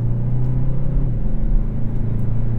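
Engine of a 2021 Kia K5 with the 1.6-liter motor while driving, a steady low rumble and hum from inside the cabin, loud and continuous with no talk.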